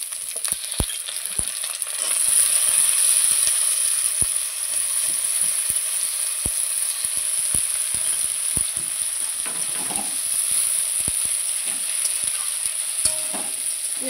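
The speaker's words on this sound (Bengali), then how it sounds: "পেঁয়াজ আর আলু আমি একসাথে ভালোভাবে ভেজে নেব।" Onions and potatoes fry together in a pan, a steady close sizzle punctuated by sharp, irregular clicks and scrapes of stirring throughout.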